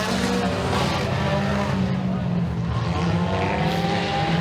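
Nine race cars in a heat race at Eriez Speedway roar together as a loud, continuous engine drone, revving and shifting as they pass, with a commentator talking over the noise.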